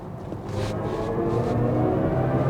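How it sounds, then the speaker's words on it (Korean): A BMW i7 electric luxury sedan accelerating, a steady low drive hum and rising tonal whine held at even loudness throughout, with faint road and wind noise and no talking. "이렇게 가속을 해보면은 여지없는 BMW입니다"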